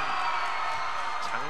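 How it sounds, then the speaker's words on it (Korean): Supporters of both teams cheer together at a youth basketball game on the DB vs Mobis court, a steady roar from the crowd under a commentator's voice. "양팀의 응원 소리가 대단합니다."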